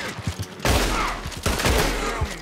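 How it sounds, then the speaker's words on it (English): Gunfire from Red Dead Redemption 2, heavy bursts of shots beginning partway through, loud and close, with a brief lull before a second volley, layered over game ambience. "Why are you shooting me?"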